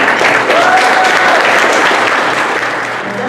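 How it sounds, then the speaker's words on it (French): A crowd at a publishing house launch applauds the publisher's introduction, a loud, dense, continuous wash of clapping sustained throughout and tapering slightly at the end. "Sous vos applaudissements."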